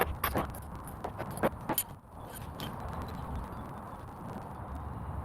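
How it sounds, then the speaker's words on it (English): Metal tools clink and jangle against a Lotus Exige S2 gearbox gear as a puller is fitted, with several quick close taps in the first two seconds, then a steady workshop hum. "Okay, so that's the puller mounted."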